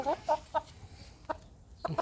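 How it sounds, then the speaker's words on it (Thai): A four-and-a-half-month-old young rooster of a Thai fighting breed clucks close by, a series of short, soft, evenly spaced clucks over quiet farmyard background. "ไก่อายุสี่เดือนครึ่งนะครับ"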